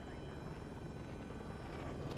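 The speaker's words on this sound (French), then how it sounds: "L'hélico est au-dessus là." A helicopter hovers overhead in a video game, with a steady, loud rotor thump and engine roar that fills the brief moment, and no talking is heard.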